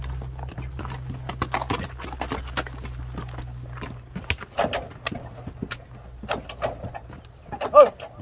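A six-year-old Mustang horse's hooves clip-clop in a steady, fairly close series of sharp knocks over a low constant hum, with a few louder strikes near the end.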